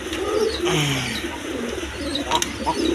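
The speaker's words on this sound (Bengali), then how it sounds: "এক pair Bombay black colour Bombay কবুতর আছে" A pair of black Bombay pigeons coos nearby in low, repeated throaty calls, with faint background noise underneath.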